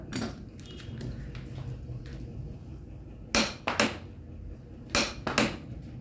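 A Makita TD172D impact driver set to torque 330 tightens a fastener. Two pairs of short, sharp hammering bursts stand out loudly over a quiet background.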